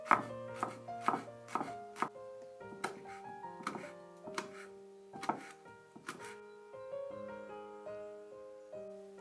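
A knife chops herbs and chili on a board in a series of distinct, fairly close strikes that start quick and rhythmic and then thin out and soften. Each cut is followed by a brief resonant ring, and no voices are heard.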